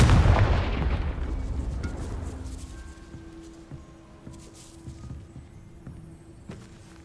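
A Confringo blasting spell detonates in the Hogwarts Legacy video game, a loud, deep boom that fades over several seconds, followed by scattered faint pops and rumbles.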